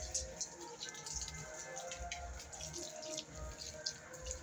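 Water runs faintly from a tap into a village water tank, a soft, steady trickle with scattered drips and splashes under quiet surroundings.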